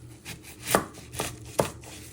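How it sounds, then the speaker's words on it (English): A knife chops the ends off an onion on a cutting board, three distinct close thuds spaced about half a second apart against quiet background. "You first want to chop your ends off"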